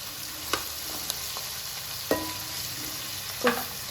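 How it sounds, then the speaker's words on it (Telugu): Onions cooking down in a pan for chicken curry give off a constant soft sizzle, with a few sharp clicks of a spoon stirring against the metal. "బాగా మగ్గనివ్వాలి అనియన్స్"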